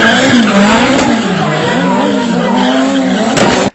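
A car and a motorbike speed around a person, with loud, continuous engine roar and squealing, skidding tyres that waver in pitch for several seconds, close by and dominant throughout.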